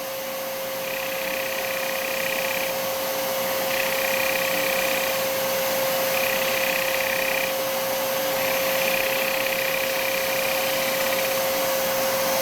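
Gouge cutting a natural-edge wooden bowl on a lathe, a continuous loud machine whir with a steady hum, and a hissing cutting sound that comes and goes in several passes.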